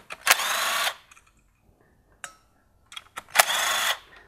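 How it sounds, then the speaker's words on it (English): A power tool removes the 10 mm ground bolts for the ignition coils on a MK7 GTI engine in two loud whirring bursts, each under a second long, with a few brief clicks and taps between them. "we're going to take these 10 millimeter ground connections off for the ignition coils"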